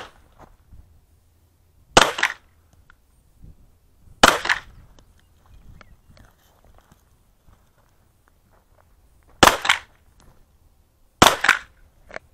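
Gunshots ring out at a mini 3-gun shooting match, four sharp separate reports spaced across the clip, loud and close against an otherwise quiet range with faint movement between shots.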